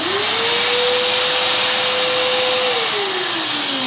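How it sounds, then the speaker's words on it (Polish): A workshop vacuum cleaner on a CNC machine, switched on by a macro, roars steadily and loudly from the start, its motor tone rising as it spins up and falling as it winds down. "Dorobiłem pneumatykę i odkurzacz, więc może zaczniemy od odkurzacza."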